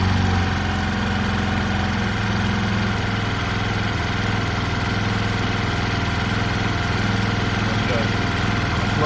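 A Honda Lead SCV100 scooter engine idles steadily and close by while its idle speed is being adjusted, giving a continuous even drone.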